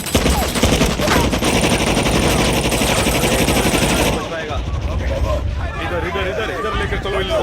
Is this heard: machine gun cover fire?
yes